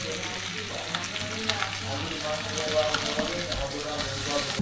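Chicken pieces and green chilies fry with vegetables in an electric kettle, a dense, steady sizzle with bubbling and light stirring heard up close, and no voices.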